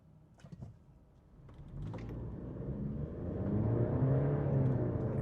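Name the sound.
2024 Mercedes-Benz car engine revving and accelerating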